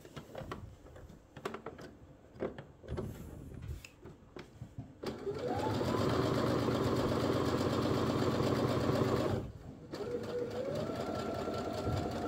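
A sewing machine stitching a skirt runs in two steady whirring bursts, the first long and the second shorter after a brief pause, with light handling clicks before it starts.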